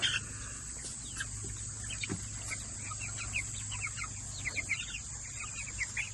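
Meat-breed chickens out on pasture keep up a soft, continuous chorus of clucks and chirps at moderate distance over a steady outdoor background, without speech.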